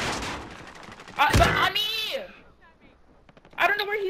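Gunfire in Call of Duty: Modern Warfare, a loud burst of shots around the 1.2-second mark and another flurry near the end, with players talking over the action.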